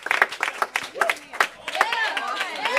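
A church congregation claps in scattered bursts that thicken into sustained applause, with a nearby voice speaking over it.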